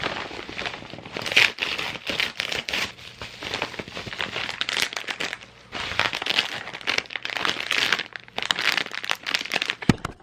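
An Amazon package holding aquarium filters being opened, with loud, close crinkling of plastic and paper wrapping in irregular bursts, some tearing and crackling, and brief pauses between handfuls.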